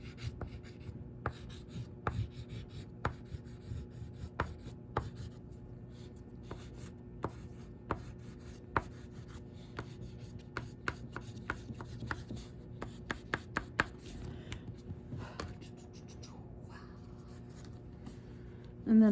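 Oil pastel rubbed on paper while colouring in small details of a face, a soft scratchy drag under quiet room tone broken by repeated short taps and strokes, close and faint.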